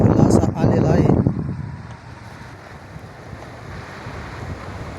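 Fast-moving water rushes across a farm in a steady, broadband wash, with wind buffeting the microphone; it is loudest in the first second and then settles into a constant roar.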